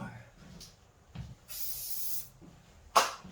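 Spray hisses onto a marble sculpture of a Hermes head in one steady burst of under a second, loud and close, with scattered handling noises before and a sharp knock after.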